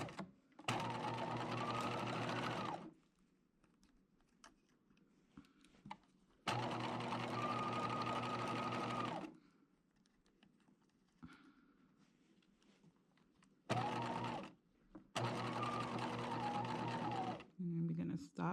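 A sewing machine stitches fabric for boat top bows in several loud steady runs separated by pauses, with a voice talking quietly in the gaps.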